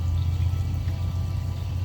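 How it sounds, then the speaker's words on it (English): Water pours steadily from a garden hose outdoors, a close continuous gurgling flow with a low rumbling body and no speech. "Here's the water hose."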